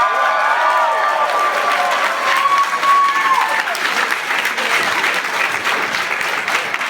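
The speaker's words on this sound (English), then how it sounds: "Give an extra round of applause for Christine." Audience applause at a Magfest 2018 convention panel, a broad wash of clapping with a few faint cheers, while a voice briefly talks over the start before the clapping carries on alone.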